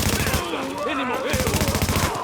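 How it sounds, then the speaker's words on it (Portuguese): Rapid automatic gunfire from Tom Clancy's The Division game rattles in fast bursts with a short break in the middle, while a voice talks over the shooting. "Não para de atirar! Manda ver!"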